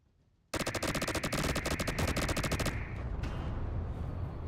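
A ship-mounted Gatling cannon in a video game opens fire in a long, rapid, loud burst of closely spaced shots lasting about two seconds, then stops, leaving a fading echo and a couple of faint impacts.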